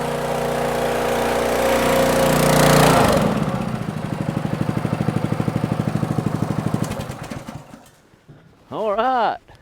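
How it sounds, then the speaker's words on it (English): A 2-inch engine-driven water pump draws water out of a tote on a farm. It runs loud and close, then drops into a pulsing idle and cuts off near the end. "a 2-inch water pump sucking out of a water tote"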